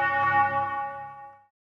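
A bells track played back in the Studio One music software rings out as one struck bell chord, bright and sustained, then fades to silence after about a second and a half.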